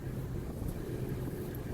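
Strong gusty wind buffeting outdoors, a dense, steady loud rush of noise across the whole short moment, with no voices.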